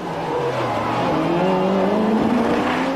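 Rallycross race cars from a 1994 French championship race, including one driven by Jean-Luc Payet, with engines revving and rising in pitch up close in a loud, continuous roar.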